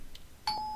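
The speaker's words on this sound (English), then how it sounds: "I rang the bell again" A doorbell rings in Corpse Party: Book of Shadows, a single clear electronic chime tone that sounds suddenly after a quiet moment and sustains steadily to the end.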